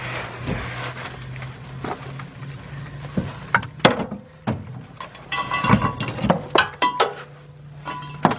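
A ratchet with a wobble extension works on a fuel pump bolt of a 1999 Lincoln Navigator, giving scattered sharp metallic clicks and clinks in irregular bursts against a low steady hum, close by and with no talk.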